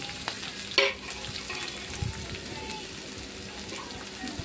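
Onions, green chillies and curry leaves fry in a pan with a steady, close sizzle and crackle, broken by one sharp metallic clink early on and a soft knock later.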